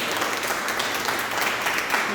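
An audience at a Hindi Diwas literary gathering for a short-story collection breaks into sustained, dense applause that holds steady and fills the room.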